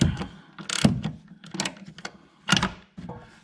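Ratchet wrench loosening a rear shock bolt on a 2017 Ford Escape, sounding as several short, close clicking bursts with brief pauses between them and metallic knocks mixed in.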